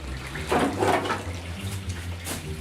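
Water gurgles and swirls down a blocked drain as it starts to clear, with bursts of sloshing over a low, continuous rush.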